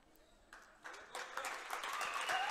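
Spectators in a hall at a girls' youth game start clapping faintly, then the applause builds into a dense, growing round that gets louder to the end.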